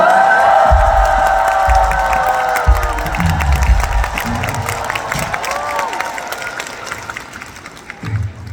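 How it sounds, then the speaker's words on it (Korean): A concert audience applauds and cheers for the band at a fan concert, dense clapping mixed with shouts and whoops, with shifting voices rising over the crowd noise and a brief lull near the end. "우리 밴드분들한테 박수 한번 또 쳐볼까요?"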